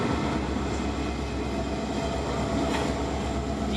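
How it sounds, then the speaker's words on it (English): A freight train rolls past close by, a loud continuous rumble with faint wheel clatter and a steady roar that never lets up, no voices over it. "Is that the end of the train already?"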